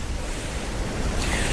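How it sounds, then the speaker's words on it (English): Big ocean waves roll in with strong wind on an Arctic tundra coast, a dense, continuous roar of surf and gusting air close to the microphone. "It's hard to fish on the ocean side here just because the waves are so big."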